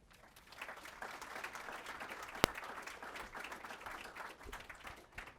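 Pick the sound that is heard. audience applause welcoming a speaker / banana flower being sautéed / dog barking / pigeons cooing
audience applause welcoming a speaker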